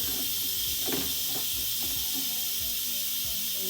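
Steam from an Instant Pot venting pressure after cooking a pork roast, a steady broad hiss holding close and loud throughout, with faint clunks and sizzling underneath.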